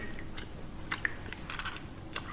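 Quiet, wet chewing and smacking of beef tendon close to the mic, with small crunchy bites scattered over a couple of seconds.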